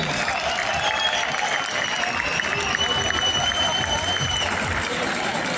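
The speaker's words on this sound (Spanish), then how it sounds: "Y por eso me merece un fuerte aplauso para él" Fans at the MotoGP Valencia 2022 welcome event applauding, a sustained wash of crowd clapping with some cheering and a PA voice over it, with a bright tonal whine running along the top.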